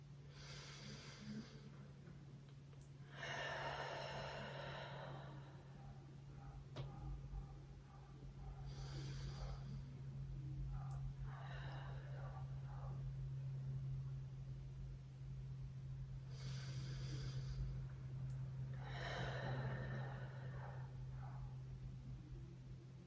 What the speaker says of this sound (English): Take 3 more rounds of breath here.